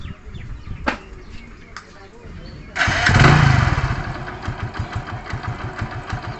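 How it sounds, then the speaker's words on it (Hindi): A Hero HF Deluxe motorcycle engine cranks and catches, then settles into a steady, throbbing idle, close by, with someone talking over it at the start. "मैं बाइक को स्टार्ट करता हूँ, देखता हूँ कि गाड़ी अभी कितने RPM में है।"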